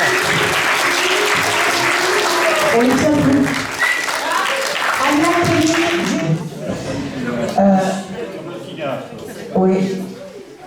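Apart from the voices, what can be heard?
audience applause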